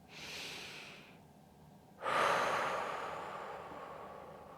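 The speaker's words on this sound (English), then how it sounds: "Deep breath in." A deep breath drawn in during a seated stretch routine, with two close, airy inhalations: a softer one first, then a louder, fuller breath after a short pause.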